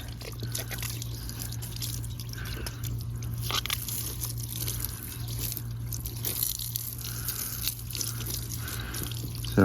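Garden hose spraying water onto a metal box freshly wet-sanded with 400 grit, a steady close hiss and splatter running the whole time with small fluctuations as the spray shifts across the surface, steady low hum underneath.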